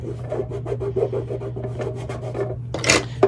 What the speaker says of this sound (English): use my scraper and pull this off